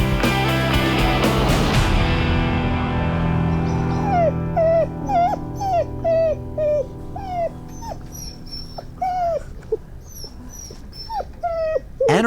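A 13-week-old Boxer puppy in severe pain after a play fight with another pup whimpers and yips in a run of high, repeated cries. The cries are close and loud, and a broad thud or rustle comes just before them.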